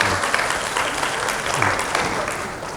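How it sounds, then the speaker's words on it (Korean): A seated audience at a parenting lecture claps for two fathers in attendance, a steady, moderately loud round of applause from the room that carries on evenly and then tapers slightly at the end. "두 분 박수 한번 쳐드릴까요?"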